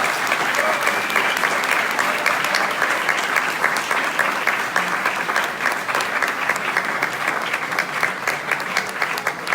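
Applause from a tech meetup audience at a talk about open source, a dense, steady clapping that fills the room for the whole stretch with some faint voices mixed in.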